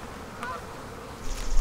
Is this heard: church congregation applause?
no